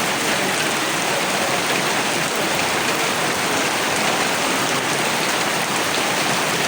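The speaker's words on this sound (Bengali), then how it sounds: "আকাশটা কীভাবে মেঘলা হয়ে রয়েছে আর বৃষ্টি খুব দারুণভাবে হয়েছে" Heavy rain pours down steadily under an overcast sky along a road, a dense, continuous hiss of drops hitting surfaces with no pauses or voices throughout.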